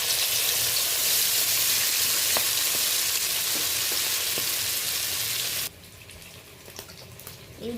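Pumpkin leaf pakoras stuffed with prawn and mushroom fry in hot refined oil in a kadai, a loud dense bubbling hiss that drops abruptly to a quieter sizzle with a few light clinks.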